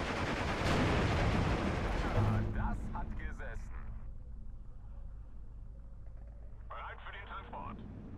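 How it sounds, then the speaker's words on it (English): Machine-gun fire from MG-34s in the WWII strategy game Steel Division 2, a dense burst of loud rattling shots in the first couple of seconds that fades into a quieter battlefield rumble with scattered later reports. "MG-34s are firing away"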